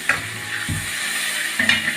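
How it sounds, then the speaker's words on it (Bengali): Water poured into a pan of fried onions, hissing and sizzling loudly in two short bursts with a quieter steady frying crackle between them. "পেঁয়াজটা ভাজা হয়ে গেছে এবার এর মধ্যে সামান্য পরিমাণ জল আমি দিয়ে দিলাম"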